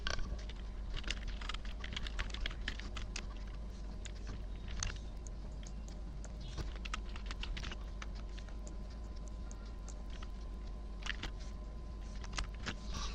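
A question being typed on a computer keyboard, with quiet, irregular key clicks tapping away continuously beneath a low background hum.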